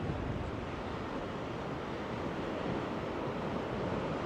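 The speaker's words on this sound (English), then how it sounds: "It is getting just slightly windier." Wind blows across a seaside bridge in Gangneung, South Korea, as a steady, dense rush with a low surf-like roar. It stays fairly faint and constant throughout, with no talking.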